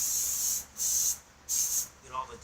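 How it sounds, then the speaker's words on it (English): Carb cleaner sprayed into the cylinder of a 25 hp Briggs & Stratton engine in three close, loud hissing bursts of about half a second each, followed by a brief faint voice. "just spray like all the junk out of the cylinder and all that"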